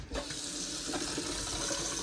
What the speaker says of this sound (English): I got water.